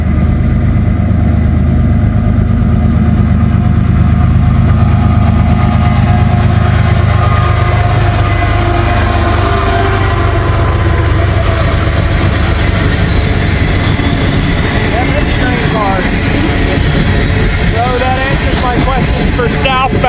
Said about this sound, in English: Another CSX. I am not sure the designation. I didn't hear it. Looks like a grain train.